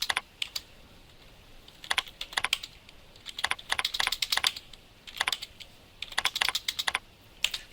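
Fingers typing on a computer keyboard while entering figures in point-of-sale software, quick bursts of crisp key clicks separated by short pauses, close and clear with no talk.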